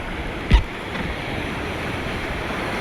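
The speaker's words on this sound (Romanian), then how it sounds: "S-au unit valurile!" Steady ocean surf rushes and washes throughout, with one brief thump of wind on the microphone near the start.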